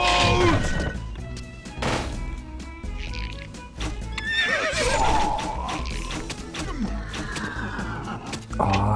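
Horses whinny loudly and repeatedly over thudding hooves and game-like effects in the video game CastleStorm, with a crash near the end.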